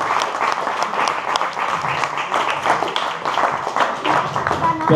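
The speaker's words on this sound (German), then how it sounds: "Applaus für Lara und Sammy." Crowd applause and clapping fill a breakdance battle venue continuously and loudly, with scattered voices and cheers mixed into the dense clatter of hands throughout.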